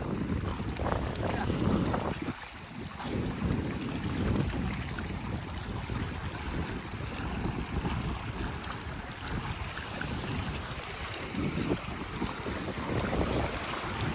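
A boat rides across open water with a constant rumble of engine and water rush, along with buffeting wind noise on the microphone throughout.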